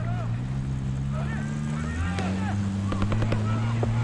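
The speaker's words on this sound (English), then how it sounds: "We got gunfire ahead." Gunfire in the Call of Duty Black Ops 6 video game among desert dunes, several sharp distant shots and short bursts cracking over a steady low engine drone, growing denser toward the end.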